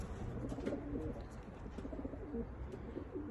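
A roughly ten-year-old homing pigeon coos close by in soft, repeated low-pitched phrases over a faint background hum.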